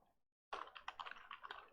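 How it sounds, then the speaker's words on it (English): Typing on a computer keyboard starts after a short silence, becoming a quick run of close, crisp key clicks with an uneven rhythm, and no voices. "I don't know why I'm typing like this"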